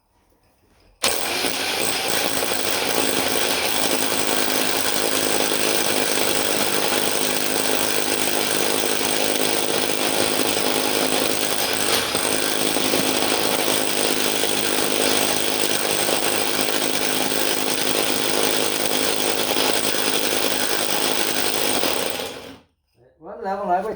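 A power drill boring through a wall during a DIY kitchen plumbing job runs at a steady, loud, grinding roar for about 21 seconds without letup, then cuts off abruptly near the end.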